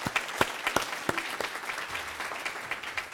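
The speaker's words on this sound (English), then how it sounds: "So let's give them all a round of applause" A conference audience applauds a panel of speakers at a technical consultation, a few sharp individual claps standing out at first before thinning into scattered, lighter clapping.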